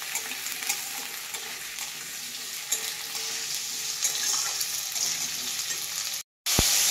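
Ridge gourd and onion frying together in a pan with shrimp nearby, giving a steady, loud broadband sizzle with occasional stirring scrapes, briefly cut off near the end before resuming.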